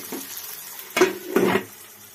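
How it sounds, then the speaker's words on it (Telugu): Onions, green chillies and curry leaves frying in hot oil for egg biryani, giving a low, steady sizzle with two louder bursts of crackling as the pan is stirred. "కొంచెం కరివేపాకు కూడా వేసుకొని బాగా ఫ్రై చేయాలి."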